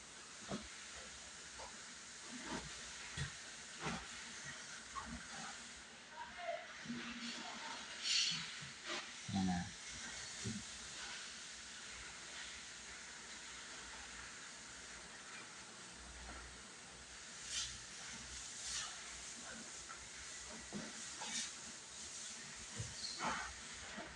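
Bananas frying in hot oil, a steady low hiss and sizzle with occasional crackles and pops running throughout, while people chat nearby.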